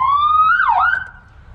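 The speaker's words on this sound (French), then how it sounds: "et sinon après tu as la sirène" A police siren on a Ford Mustang wails near and loud, rising then swooping down in pitch before steadying, over a low engine rumble.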